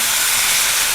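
Tomatoes hit hot oil in a pan for a coriander-tomato chutney, a loud, close, continuous hissing sizzle throughout the brief moment.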